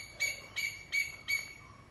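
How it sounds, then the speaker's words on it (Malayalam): An Asian koel calls outdoors, four evenly spaced clear whistled notes rising in a steady rhythm, fairly faint and distant against a quiet background. "കുയിലാശാൻ അവിടെ വന്ന് കൂവുന്നുണ്ട്."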